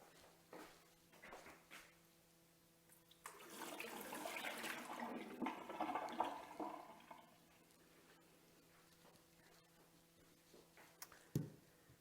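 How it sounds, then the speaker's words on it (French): Water is poured out and refilled in a glass jar used to sprout sweet potatoes, a burst of splashing and running water in the middle, with faint clinks before and a sharp knock near the end. "Donc, je vais changer l'eau sur celle-là."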